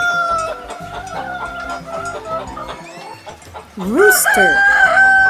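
Clucking fowl chatter steadily, then a rooster lets out a loud, rising cock-a-doodle-doo near the end, close and clear.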